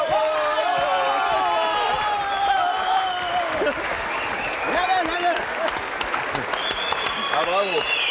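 Studio audience of a French TV entertainment show applauding and cheering over several seconds, with excited voices and shouts layered over the clapping.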